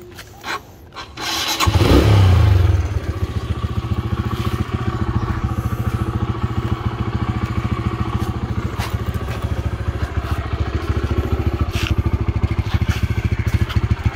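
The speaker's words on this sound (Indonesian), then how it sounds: "Nah, kita nyalain dulu mesinnya." A Honda CS1 125cc single-cylinder motorcycle starts up with a short burst of cranking, then catches and settles into a loud, steady, close idle that carries on unbroken.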